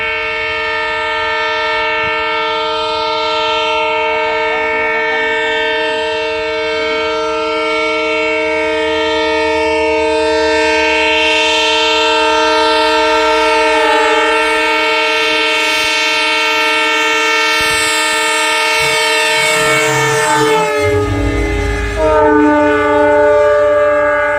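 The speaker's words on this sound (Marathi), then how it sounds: "हाय स्पीड चाचणी घेण्यात येत आहे मित्रांनो आज गाडी आलेली बघा" A train on a high-speed trial run at a railway station sounds a long, loud, sustained horn that bends in pitch as it rushes past, over a steady rumble of wheels and carriages.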